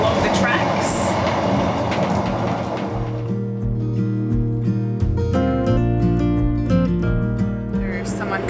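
A moving train on a Scottish railway line, heard from inside the carriage: a rumbling wash of rail noise that settles into a steady low drone with layered tonal hums, rhythmic and continuous.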